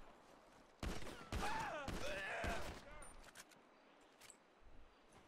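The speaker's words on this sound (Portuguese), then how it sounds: "Eles começaram a atirar, velho." Rapid bursts of automatic gunfire in the video game GTA 5 come in several loud clusters, then give way to a few fainter distant shots, with people's voices mixed in.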